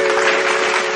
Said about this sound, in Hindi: गोटे जोरदार करताली सहित स्वागत करवा।